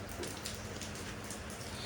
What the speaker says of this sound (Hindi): और बारिश सी लगी हुई है, वो देखेंगे।